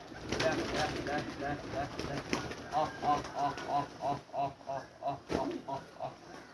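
Pigeons cooing in a rhythmic series of soft, repeated calls while being fed, close by, with a voice calling out to them in the background.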